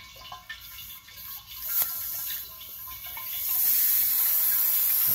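A steady hiss of air escaping through a Schrader valve, growing louder and brighter as water runs in and displaces it, with a few faint clicks and knocks early on. No voices.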